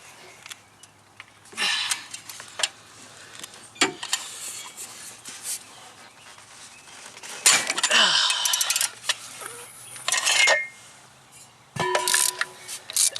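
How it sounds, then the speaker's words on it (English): A socket wrench on stacked extensions with a cheater bar strains against a seized downstream O2 sensor on a Chevy Cruze, giving scattered metallic clanks, scrapes and a sharp crack as it breaks loose, close up amid quiet shop background. "put a bunch of extensions on the end of the socket and a cheater bar to break this loose"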